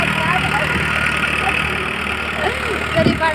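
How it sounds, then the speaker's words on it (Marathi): A tractor cuts furrows in a field being readied for watermelon planting, its engine running in a steady, fairly close drone for the whole stretch while a voice talks over it. "पहा ट्रॅक्टर आले, सरी पाडायला चालू आहे."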